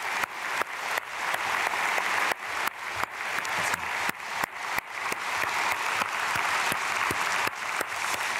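A church congregation gives sustained applause during a Korean dawn prayer service. Dense, loud clapping fills the room continuously for several seconds, with no voices over it.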